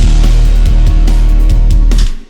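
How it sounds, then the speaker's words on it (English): Exaggerated 20 hertz sub-bass rumble boosted in an anime-song mix: a loud, continuous low drone swamping the music, with rhythmic beats and bright elements pulsing on top before it fades away at the end. "that's something that is so rumbly"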